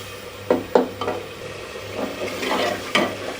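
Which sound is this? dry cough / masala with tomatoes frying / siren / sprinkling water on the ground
masala with tomatoes frying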